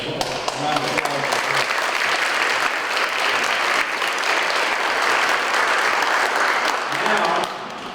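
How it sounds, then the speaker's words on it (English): Sustained, loud applause fills a banquet hall as the audience claps for a celebrity guest, steady and dense for several seconds before easing off, with some voices underneath. "Let's give our celebrity guest a round of applause."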